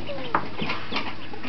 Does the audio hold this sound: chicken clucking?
yes